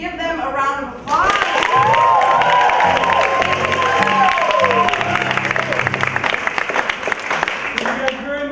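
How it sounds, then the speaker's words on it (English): A crowd at the close of a comedy show bursts into loud, sustained applause with cheers and whoops, as a voice speaks over the noise before it thins out. "Give them a round of applause."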